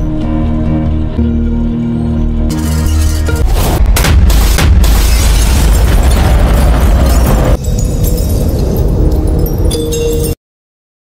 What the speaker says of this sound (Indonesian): adu tembak pun terjadi seperti aturan koboi dengan aba-aba di awal